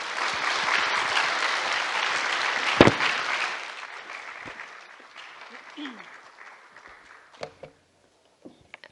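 A church audience at a Friday worship and prayer gathering applauds loudly to welcome a speaker; the dense clapping holds steady, then thins and fades away, leaving a few scattered taps and shuffling footsteps.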